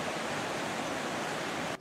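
Flood water rushes down the trout pond outlet into the river at Letchworth State Park, a steady broadband roar of flowing water, even and unbroken, moderately faint.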